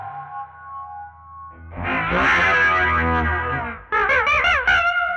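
An electric guitar is played through an Alexander Pedals F.13 NEO flanger pedal with the regen turned up. A sustained, swirling, jet-like chord rings loud and alone, then short resonant notes follow.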